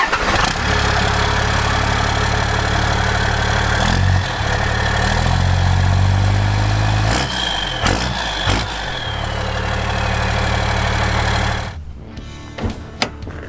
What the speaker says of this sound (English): it's all turbo noises. It sounds like a big semi truck